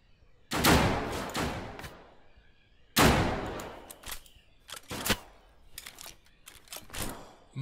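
Gunfire from the Deadside video game during a PvE gang attack: several loud, close bursts of shots with sharp cracks and rolling echoes, spread across the scene with short pauses between volleys.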